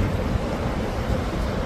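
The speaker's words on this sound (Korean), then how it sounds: "여기 오늘 바람이 많이 불어서 파도가 심한데" Rough sea surf breaking on a beach in strong wind, a steady loud roar of waves mixed with gusty wind buffeting the microphone, continuous and close.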